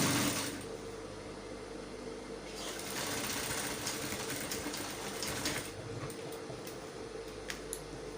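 A sewing machine stitches elastic onto a puff sleeve, a close, steady rapid whirring with a brief pause and small ticks and clicks of handling the fabric, no voices.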